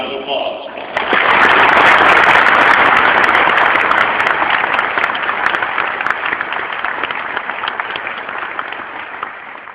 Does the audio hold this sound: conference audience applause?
yes